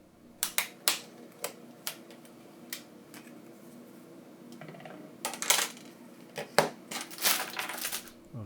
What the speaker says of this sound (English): It needs to make the click everywhere, so you will know that it's released from the frame.